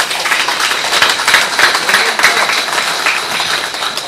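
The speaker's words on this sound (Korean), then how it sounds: "큰 박수 한번 부탁드립니다" Audience applause at a book launch in Korea, a sustained crowd of hands clapping at close range, dense and even throughout with small swells.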